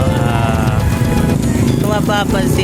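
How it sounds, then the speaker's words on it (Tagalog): Motorcycles and cars run outside, making a loud, continuous engine rumble and buzz beneath a person talking. "ang iingay na naman ng mga motor at mga kotse dito sa labas"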